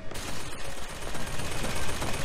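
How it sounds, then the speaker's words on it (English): Gunfire in the video game BioShock Infinite, a dense, loud, continuous barrage of shots filling the whole moment. "something's shooting at me"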